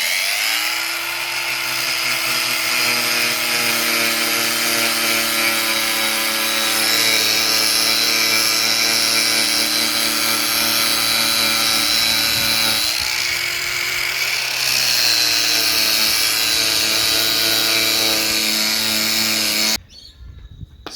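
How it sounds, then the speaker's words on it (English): A grinder runs steadily over a deer skin to thin it during home tanning, a loud, continuous whining motor hum with a shifting pitch when pressure changes, cutting off near the end. "I'll also run the grinder over it just slightly in the thicker spots, just enough to thin it slightly"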